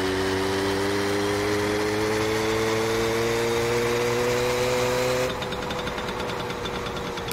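A motorcycle engine in the video game My Summer Car holds a steady, buzzing idle with a strong low drone, then shifts abruptly to a rougher, thinner running tone near the end, with no voices.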